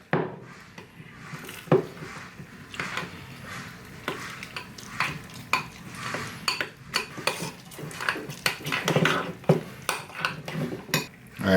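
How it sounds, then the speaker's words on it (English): A spoon stirs egg whites into a protein mixture in a bowl, giving repeated close scraping and clinking knocks against the bowl in an uneven rhythm with no talking. "And then we're gonna stir that in."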